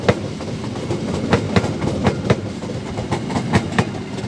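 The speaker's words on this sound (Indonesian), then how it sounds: "kereta api Mutiara Selatan pasti akan masuk jalur belok ya" A Mutiara Selatan passenger train rolls along the tracks, with a steady rumble and a regular clickety-clack of wheels over rail joints, fairly close and loud, with no voices.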